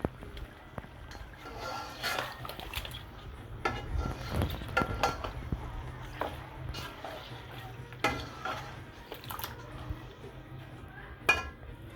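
Stirring a mixture with a utensil in a kitchen, soft irregular scraping and clinking against the pot, quiet and close with faint background noise.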